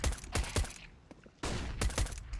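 Pistol fire in a Counter-Strike match, several sharp gunshots in quick clusters with a short gap between volleys, loud and close.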